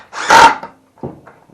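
A power drill drives screws into the wood of an aquarium stand: one loud, close burst of whirring and grinding, then a couple of shorter, quieter bursts after a pause.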